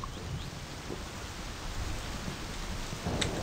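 Steady rain hisses through a Project Zomboid game scene, with a soft low rumble of distant thunder rolling underneath and a slightly louder swell near the end.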